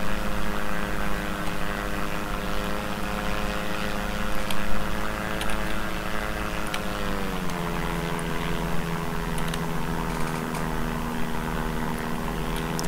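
An airplane flies in the city-building game SimCity 4, a loud steady propeller drone with stacked tonal hum that drops in pitch midway and holds there, with scattered faint clicks and no talk.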